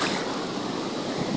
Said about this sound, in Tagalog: Oh, sobrang laki ng alon